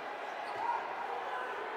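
Loud arena crowd at a FIBA World Cup basketball game between the Philippines and Qatar, a constant roaring wash of cheering with no clear breaks.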